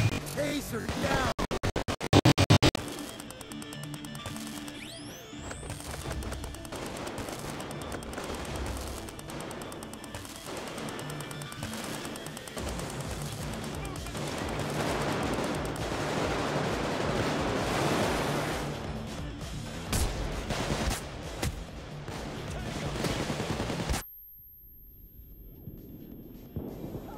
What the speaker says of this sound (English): I'm shooting like a wild man.